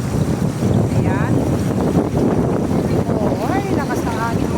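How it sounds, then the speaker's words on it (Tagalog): Strong wind buffets the microphone in heavy, continuous gusts outdoors in Nambalan, with a strong water current rushing underneath and brief voices cutting through. "lakas ng hangin mga guys"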